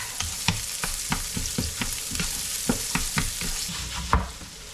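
Lots of garlic and some onions fry in a hot pan with a constant sizzle, while a utensil stirs and scrapes in a quick, uneven rhythm.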